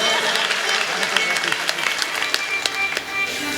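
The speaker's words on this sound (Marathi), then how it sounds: "वाजवा, टाळी वाजवा आमच्यासाठी." An audience at a devotional kirtan gathering claps hands in scattered, uneven bursts, crisp smacks rising over a speaking voice that continues throughout.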